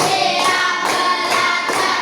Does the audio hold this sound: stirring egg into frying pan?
no